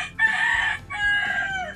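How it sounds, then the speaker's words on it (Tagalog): A rooster crows loudly and close by, a strained two-part call with a brief break in the middle. "At may manok pa."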